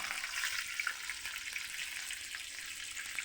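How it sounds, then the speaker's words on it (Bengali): Gram-flour-battered fritters deep-fry in hot oil, giving a steady, dense bubbling hiss with fine crackles that holds evenly throughout at moderate loudness, with no talking. "বেসনে চুবিয়ে তারপরে ডুবো তেলে এগুলোকে ফ্রাই করতে হবে"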